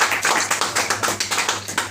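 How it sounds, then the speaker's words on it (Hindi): Applause from a group of people at a gathering of a drivers' welfare union in India: brisk, fairly loud rhythmic clapping in quick regular bursts, close to the microphone. "तालियां बजाओ सारे।"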